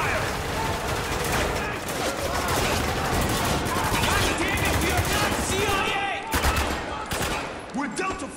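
Machine gun fire rattles in the video game Spec Ops: The Line, dense and loud bursts of rapid shots mixed with other battle noise and shouting voices.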